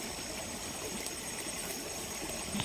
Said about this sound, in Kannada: ನೀರು ಹರಿಯೋ ಸೌಂಡ್ ಕೇಳಿಸ್ತೈತಾ